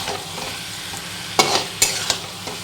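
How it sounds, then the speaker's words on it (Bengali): Spiced chicken pieces being stirred and sautéed in a pan, with a steady sizzling hiss and several sharp scraping clacks of a spoon against the pan, close and fairly loud, no talking. "ভালো করে আমি এখন মিশিয়ে নিচ্ছি চিকেনটা। এই যে ভালো করে এখন কষাবো।"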